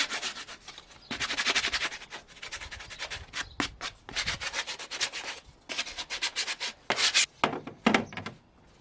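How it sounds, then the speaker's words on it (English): Wooden frame pieces for a suitcase Eurorack case get a quick hand sanding: close, scratchy rubbing strokes in uneven bursts, some short and some drawn out, with brief pauses between them. "And a quick sanding tidies them up."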